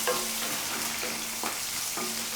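Thinly sliced onions frying in a pan with dried red chillies for mango dal, a steady close sizzle with faint scraping stirs, no voices.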